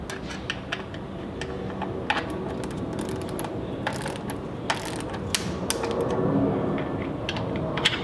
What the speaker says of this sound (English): tighten the top and bottom band clamps to the required torque